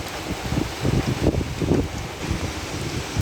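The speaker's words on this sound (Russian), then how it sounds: "И вот сильный дождь с сильным ветром." Strong rain and gusting wind in Krasnodar on a stormy June day, a dense rushing hiss with uneven bursts of wind buffeting close to the microphone, no talking.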